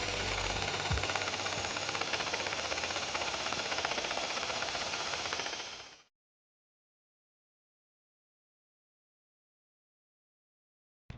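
Step drill bit grinding steadily through a Jeep Wrangler steel frame to widen a hole for flange nuts, a loud, continuous rough whine lasting about six seconds before cutting off into silence.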